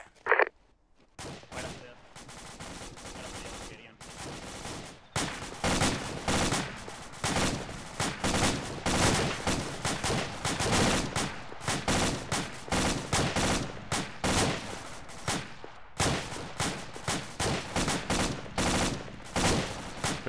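Sustained gunfire in the tactical shooter game Valhalla Tactical, with dense rapid bursts of automatic fire and loud cracking shots going almost nonstop for about twenty seconds after a brief quiet start, close and loud.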